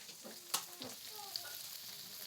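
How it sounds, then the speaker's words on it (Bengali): Fish fries in a pan with a faint, low-level sizzle and a couple of soft knocks, heard from some distance in a quiet room. "এই যে মাছগুলো ভাজা করছে,"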